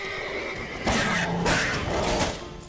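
A horse in the video game The Witcher 3 lets out a loud, shrill neigh that breaks into a rising, wavering whinny over a steady background hum.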